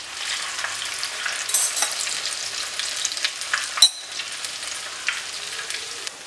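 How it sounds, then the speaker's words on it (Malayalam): Potato thread chicken deep-frying in hot oil gives a steady, close crackling sizzle with busy popping bursts throughout and no talking. "ഇതുപോലെ നമുക്ക് ബാക്കിയുള്ളതും കൂടെ ഫ്രൈ ചെയ്തെടുക്കാം"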